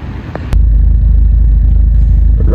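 A stage 2 Vauxhall Astra VXR tuned to around 320 bhp idles while warming up, a loud steady low engine rumble close by that starts abruptly after a brief click and holds evenly throughout.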